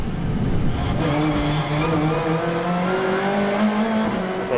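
Race cars battle wheel to wheel on a circuit, engines roaring loud and continuous with rising and falling pitch as they chase each other past at speed.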